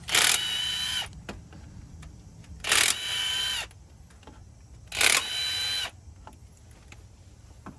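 Three separate whirring bursts from a power tool spinning out 10mm bolts on the timing cover of a 1999–2007 GM truck engine, each about a second long, close, with quiet shop ambience between.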